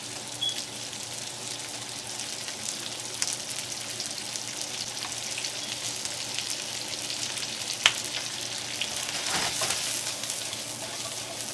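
Carrots and onions stir-fry in a hot wok with a steady, dense sizzle throughout, broken by occasional sharp clicks and a louder hiss of stirring near the end. No one speaks.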